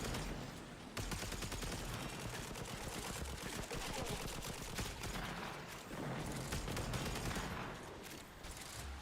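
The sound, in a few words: gun firing with AoE explosions in the video game Warframe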